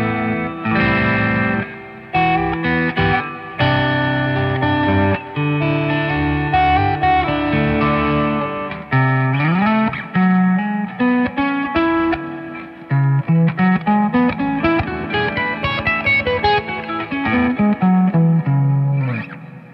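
A distorted electric guitar through the neck humbucker plays a melodic riff with sustained notes and slides, thick and saturated, with short pauses between phrases, during a speaker test.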